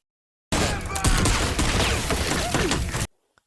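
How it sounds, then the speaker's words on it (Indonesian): A gunfire shootout from the film Buffalo Boys, a dense, continuous fusillade of overlapping shots and sharp cracks lasting about two and a half seconds, loud and up close, cutting off abruptly into silence. "Dan terjadilah tembak-menembak di antara mereka."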